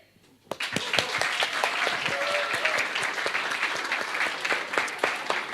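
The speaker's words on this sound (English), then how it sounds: "we would like to give a round of applause to all of you" An audience at the futurEU Competition 2022 final event breaks into steady applause for the semi-final teams, a dense wash of many hands clapping that starts abruptly and holds evenly throughout.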